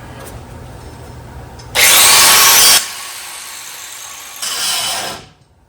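A power grinder on a Dodge D100 frame grinds down a rivet head in two loud, harsh bursts, the first about a second long and the second shorter, with quiet between them.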